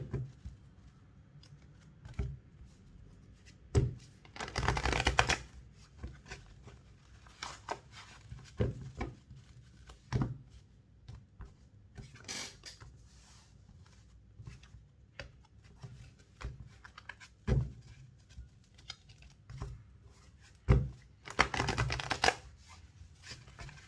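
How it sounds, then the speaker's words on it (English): Tarot cards being shuffled by hand close up, in irregular bursts of riffling and soft slapping with quiet gaps between, and no talking. "Let me shuffle the cards."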